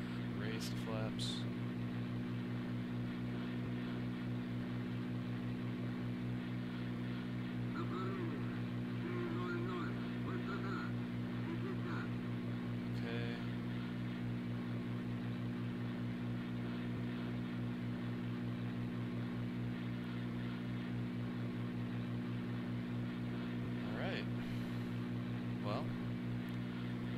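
Propeller aircraft engine during takeoff in the IL-2 Sturmovik flight game, a steady droning hum that holds constant throughout at moderate volume with small clicks and blips over it.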